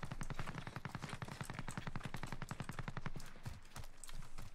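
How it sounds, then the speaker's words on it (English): Warzone video game gunfire: a long, fast rhythmic burst of automatic shots in an even rapid cadence, fairly faint and distant, with a few heavier separate reports near the end and no talking. "Where's that shooting coming from?"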